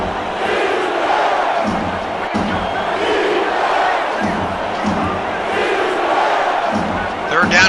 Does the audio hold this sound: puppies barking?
no